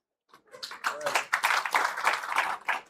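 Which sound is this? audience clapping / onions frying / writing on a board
audience clapping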